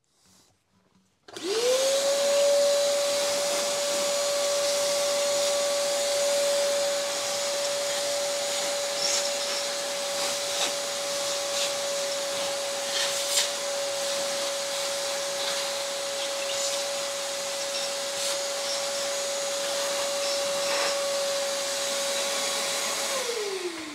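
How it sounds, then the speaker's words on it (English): A vacuum cleaner runs loud and steady for about 22 seconds as it cleans up a Ford 302 engine cylinder head in a workshop, with a sharp whine as the motor spins up and spins down at the end. "let's get this vacuumed up just real fast"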